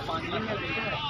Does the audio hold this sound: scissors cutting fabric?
no